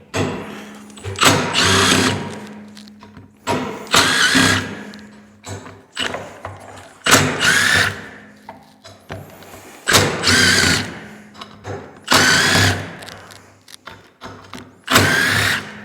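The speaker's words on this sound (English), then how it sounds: "I'm using a Milwaukee of 1/4-inch drive impact" A Milwaukee 1/4-inch drive impact driver removes Torx screws during a clutch kit install on a Can-Am Defender HD10, giving repeated loud, close, hammering bursts of a second or so, separated by brief pauses.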